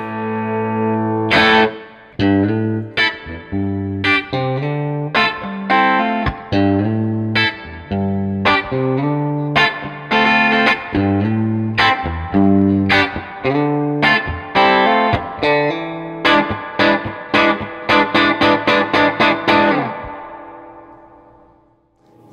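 Electric guitar played through a Fender Pro Junior or Blues Junior IV amp with a distorted tone, chords and single notes trailed by delay echoes, ending in a quick run of picked notes.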